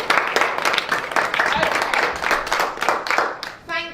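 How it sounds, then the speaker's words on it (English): A small group in a teacher training session gives a round of applause, uneven clapping in a room with talk mixed in, ending in a brief musical tone. "Give them a round of applause,"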